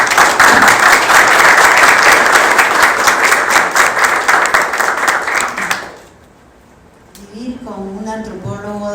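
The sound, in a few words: audience applause at a book presentation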